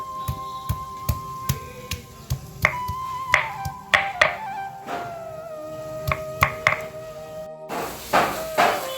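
Fresh ginger being ground by hand for a vegetarian jackfruit curry with paneer, giving a steady run of sharp knocks and taps at a close, lively rhythm that quickens and crowds together toward the end, with no talking.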